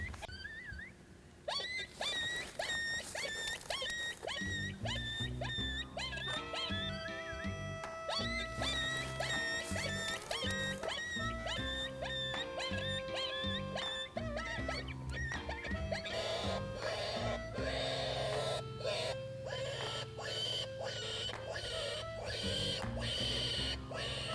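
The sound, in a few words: coyote call played from a game caller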